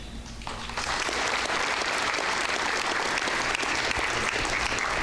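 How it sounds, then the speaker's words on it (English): Sustained audience applause fills a banquet hall at a school system's Teachers of the Year event, dense steady clapping starting softer and swelling within the first second, then holding loud and even throughout. "will you join me in a round of applause once again?"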